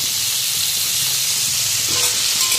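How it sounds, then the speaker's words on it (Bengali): Cauliflower frying in leftover potato-frying oil for a village-style egg curry meal, giving a steady, close, bright sizzle and hiss that holds evenly throughout with no talking. "আর এখানে আলু ভাজার তেলটা রয়েছে, এর মধ্যে ফুলকপিগুলো ভেজে নেবে।"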